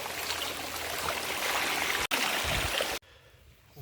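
Water streams and splashes steadily while freshly dug ube yams are washed outdoors in the mountains, a continuous close rushing flow that cuts off abruptly near the end.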